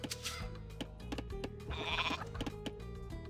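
Goats bleat in the real-time strategy game Age of Mythology: Retold, with several short nasal calls rising over busy game sounds and scattered clicks, fairly quiet overall.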